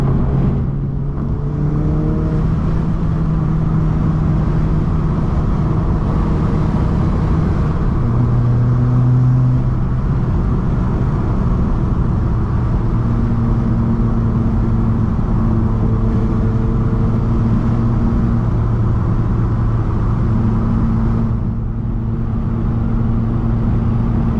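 A 2018 Subaru WRX driving a back road, its engine droning steadily and loudly throughout with shifting pitch as it changes gear and speed, plus constant road and tyre rumble.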